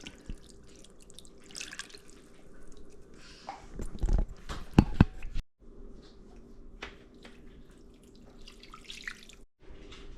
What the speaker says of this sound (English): I'll add a little bit more liquid of beef broth to it.